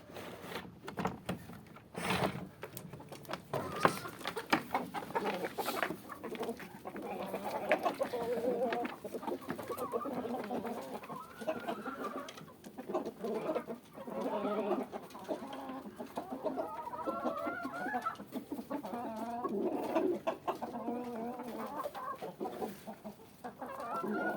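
Several chickens, including Wyandottes, cluck and chatter continuously, close by, with occasional louder squawks among the flock.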